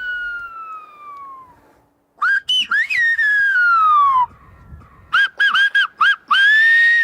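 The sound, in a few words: whistled language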